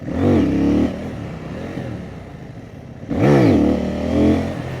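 A 2024 CFmoto 800NK motorcycle at full throttle, two hard acceleration runs with the engine note climbing steeply through the gears, loud and close, with a quieter dip between the pulls.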